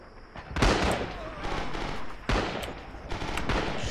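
A grenade goes off in the Rising Storm World War II shooter on Guadalcanal, a loud close blast standing out among dense rattling gunfire, with a second sharp burst later in the busy battle din.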